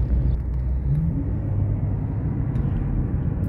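A Dodge Challenger's engine drones as it drives, a steady low rumble with road noise that stays close and even throughout, with no one talking.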